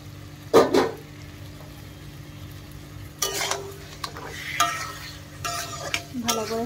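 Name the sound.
marinated chicken with yogurt and turmeric frying in spiced oil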